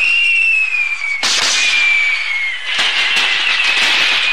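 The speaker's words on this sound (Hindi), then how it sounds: "पटाखे जलाओ, मौज मनाओ। अरे वाह पटाखे।" Loud festival firecrackers in a Doraemon cartoon burst and crackle in rapid overlapping bangs, with a thin whistling tone running through the noisy explosions.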